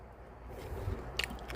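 A bite into crunchy air-fried chicken gives a short, close crunch near the end, with softer chewing before it against a quiet room.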